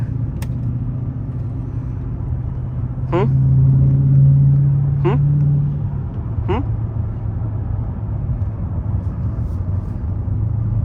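Engine of a 2022 Dodge Challenger Widebody Scat Pack, a steady low rumble heard from inside the car while driving, swelling louder for a couple of seconds midway before settling back to a constant drone.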